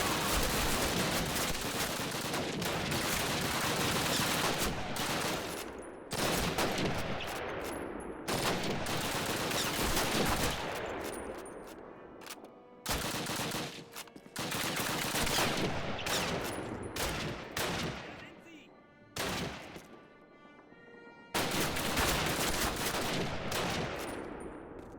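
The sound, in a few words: gunfire from Call of Duty video game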